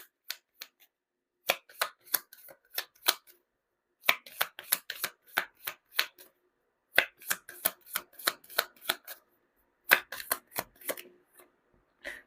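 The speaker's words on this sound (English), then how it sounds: "So let's just pull up one last card here." Tarot cards shuffled by hand in quick bursts of crisp riffling slaps, several rapid clusters separated by brief pauses, close and clear with no talk.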